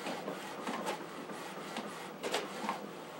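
Epson EcoTank 8550 printer running its alignment process: a steady mechanical whir with the printhead carriage shuttling back and forth, brief swells and clicks recurring, close and continuous with no talk.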